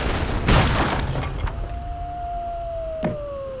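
A broadband blast around half a second in, then a sustained whining tone and another sharp burst, as heavy cannons fire in Age of Empires 3 DE over a background rumble.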